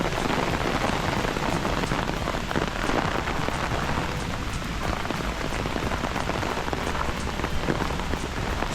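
Steady rain pours through a Swiss forest, a dense continuous patter of drops on leaves and ground, close and even throughout with no voices.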